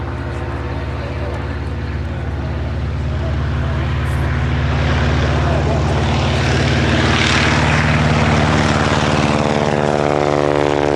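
Will Curtis's aerobatic plane from the Honda Dream Team roars at an air show, a loud, sustained propeller engine drone that builds slightly in intensity, with a voice commentating over it.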